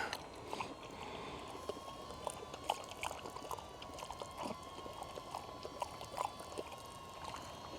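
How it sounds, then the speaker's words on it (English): Water is poured out for a dog outdoors, a faint, continuous trickle and splash heard from close by under steady background noise. "Let me give my dog some water here."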